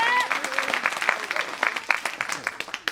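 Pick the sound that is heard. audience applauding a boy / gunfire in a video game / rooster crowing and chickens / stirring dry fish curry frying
audience applauding a boy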